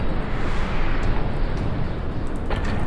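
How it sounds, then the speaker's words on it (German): Gunfire in the first-person shooter F.E.A.R. 3, a dense, loud barrage of booming shots and impacts under continuous rumbling battle noise, with sharper cracks near the end. "So, gleich ein paar Schüsse verpasst."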